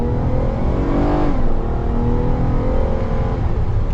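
Engine of a Ram ProMaster conversion van building under acceleration, a loud, close cabin drone that rises in pitch, dips briefly at a shift, then climbs again, with no talk over it.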